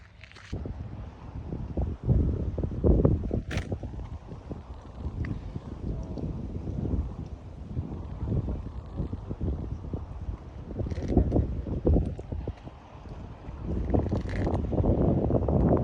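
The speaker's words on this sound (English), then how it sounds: "Super windy down here today." Strong gusty wind buffets the microphone throughout, a continuous low roaring rumble with rustling surges and no talking.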